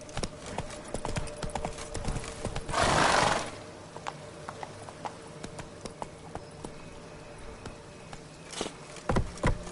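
The horse Roach in The Witcher 3 moves in steady clip-clop hoofbeats, with a loud breathy snort or whinny burst partway through and soft ambient insect-like noise around, no talking.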